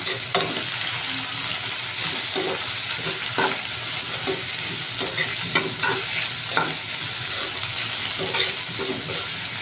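Onion curry frying in a pan with asafoetida, stirred steadily: a continuous close sizzle under repeated scraping and clinking of a spoon against the pan.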